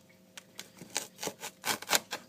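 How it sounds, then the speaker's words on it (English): A knife slicing through a hot pepper on a cutting board, a series of short crisp cuts and taps in an uneven rhythm, close and fairly quiet with no talk. "So you want to cut the pepper in half."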